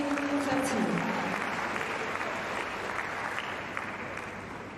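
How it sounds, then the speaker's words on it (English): Tennis crowd applause during an Adelaide 2022 women's match between Ashleigh Barty and Coco Gauff, a steady broad wash of clapping filling the whole stretch and slowly easing, with a commentator's voice underneath. "Crowd trying to get her going here."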